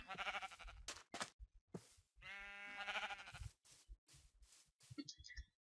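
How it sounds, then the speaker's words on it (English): Sheep in the Minecraft video game bleat several times with wavering, harmonic cries, mixed with footsteps and other game sounds; no one talks. "The only animals I've been able to find really are sheep."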